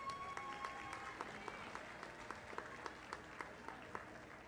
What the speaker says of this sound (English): please go ahead and give them another round of applause